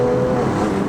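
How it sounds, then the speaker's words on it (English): Loud, steady engine drone from a modified BMW M2 Competition, close up and continuous with no break, a dense rumble that holds for under a second. "It is a noisy car now."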